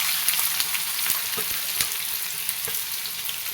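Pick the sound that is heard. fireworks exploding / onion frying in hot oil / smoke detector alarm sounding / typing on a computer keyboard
onion frying in hot oil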